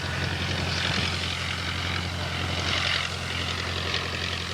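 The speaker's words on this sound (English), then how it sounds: "I think I can hear one of those planes now." A steady, droning engine hum with a low, even tone from a vintage Moth propeller plane with a Gypsy engine, continuous and moderately loud with no voices.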